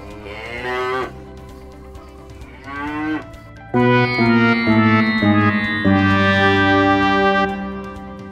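A cow moos in several long, drawn-out calls, two shorter lows followed by a sustained louder one, close and clear with no talking.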